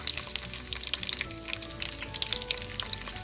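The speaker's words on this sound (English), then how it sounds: "So I already have ghee heating in a wok." Garlic frying in hot ghee in a wok, a steady close sizzle with bright crackling pops throughout, alone with no talk.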